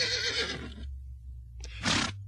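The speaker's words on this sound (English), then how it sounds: "who rode his horse" A horse whinnies in a long, quavering neigh that fades out, then, after a brief pause, gives a second, shorter and brighter whinny over a steady low background hum.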